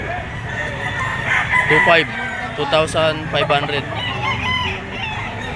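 A bull stag rooster with a straight comb and yellow legs crows and clucks at the Lipa auction market, its calls rising in short bursts beneath someone talking over it.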